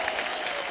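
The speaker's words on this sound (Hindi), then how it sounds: "जोरदार तालियां हो जाए मंदाकिनी जी के लिए" A brief burst of studio audience applause welcoming actress Mandakini on a comedy talk show, a dense, even wash of clapping lasting under a second.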